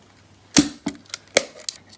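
A Pentax ME Super film camera with a metal vertically running shutter fires several times in quick succession, each release a crisp, close mechanical click with a lighter snap after it, heard alone in a quiet room.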